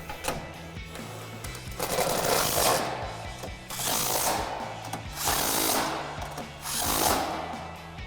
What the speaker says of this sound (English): Grab our impact and tighten them down.